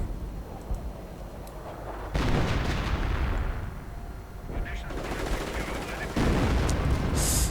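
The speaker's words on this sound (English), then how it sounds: "More rockets unleashed." Rocket barrages and heavy gunfire in a WWII real-time strategy battle between US and German forces, a dense, continuous roar of launches and explosions with louder bursts near the start and end.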